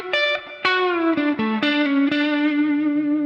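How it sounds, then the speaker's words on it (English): An electric guitar plays a country-style lick from a guitar solo, with bent and sliding notes that ring out in a continuous, effects-laden phrase, loud and alone. "And here we have very much a country lick."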